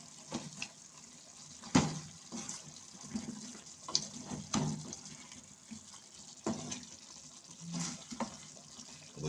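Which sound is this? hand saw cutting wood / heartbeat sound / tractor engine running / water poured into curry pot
water poured into curry pot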